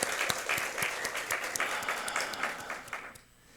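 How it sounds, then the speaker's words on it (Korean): A church congregation applauds at a year-end worship service, brisk clapping from many hands that stays full and lively before tapering off quickly at the end. "우리 찬송 가운데 임하신 하나님께 감사와 영광의 박수 올려드리겠습니다."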